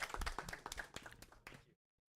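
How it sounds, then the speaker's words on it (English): A small crowd claps at an EA FC 25 gaming tournament prize announcement, a short, close round of scattered hand claps lasting under two seconds before cutting to silence. "Round of applause to Vlad and Liverpool for winning third place."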